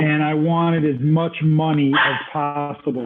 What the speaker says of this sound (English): excuse me if you hear my rescue dog barking in the background